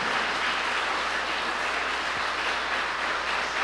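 Congregation applauding during a church service, a dense, steady wash of many hands clapping together at an even level throughout, with no single claps standing out.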